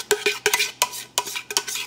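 Cake batter for an Easter pearl cake being spooned and scraped into cake pans, heard as a series of five or six short, sharp metallic scrapes and taps in an uneven rhythm, close up, with no talking.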